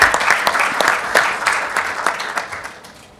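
A conference audience claps loudly for a speaker, a brisk burst of applause that gradually fades out over a few seconds.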